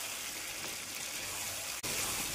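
Prawns sizzle steadily in a pan with spices for prawn biryani. A close, even frying hiss is broken once by a brief dip, likely a stir, before the sizzling resumes.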